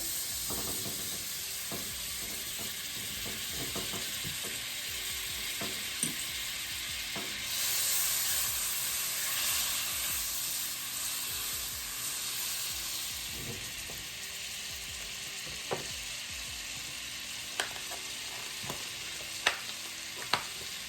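About half a stick of butter melts in a hot pan, a steady close sizzle and frying hiss lasting throughout, with occasional scrapes and clicks of stirring and no talking.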